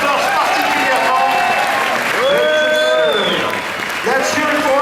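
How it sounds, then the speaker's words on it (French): Audience applause for the performers at the Disneyland Paris Moteurs... Action! Stunt Show Spectacular, a steady roar of clapping with cheers and whistles, under an announcer's voice over the loudspeakers. "On peut applaudir notre héros et notre torche particulièrement."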